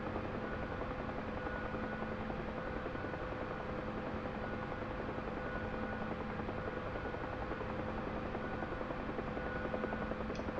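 A Huey helicopter at full power in a climb, its rotor and turbine forming a steady, dense droning roar without letup throughout.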